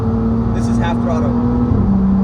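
A BMW M4 F82 pulls at half throttle, its steady engine drone holding a constant tone, heard from inside the cabin with a voice speaking over it.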